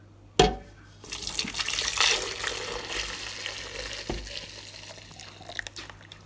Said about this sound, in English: Carefully pour into the blender.